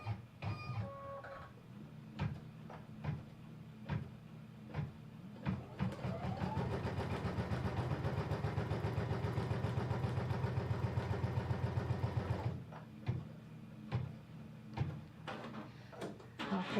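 An embroidery sewing machine stitches a tack-down line in the hoop with a rapid, even mechanical chatter that runs for several seconds, framed by sharp clicks and short motor whirs as the hoop moves.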